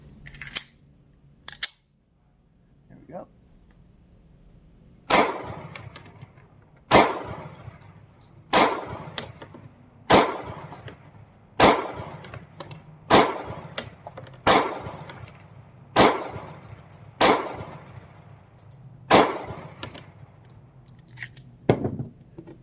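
A Sig Sauer P365 pistol fires Armscor ammunition on a range, a dozen sharp, loud reports spaced about a second or two apart after a couple of opening shots, close and without talk.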